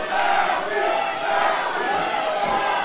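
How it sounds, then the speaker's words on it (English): Crowd roaring and cheering at a lucha libre wrestling match in Mexico, a dense sustained wall of many shouting voices swelling and dipping, heard from within the arena. "Hear the crowd."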